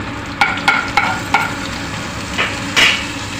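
Asafoetida and cumin seeds sizzling in ghee in a pan, a steady frying hiss with several sharp scraping stirs of a spoon, close and alone without speech.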